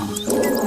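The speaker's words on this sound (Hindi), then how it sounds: "गुस्से में आकर शेर जोर जोर से दहाड़ने लगा।" A lion roaring loudly, heard as a brief, rough, low rumbling roar that swells partway through and stays loud to the end.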